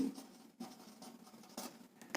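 Marker or chalk scratches across a classroom board in short scraping strokes separated by brief pauses, steady and fairly quiet.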